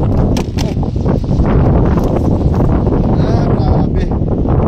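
Steady wind buffeting the microphone in a constant roar, with faint voices underneath throughout.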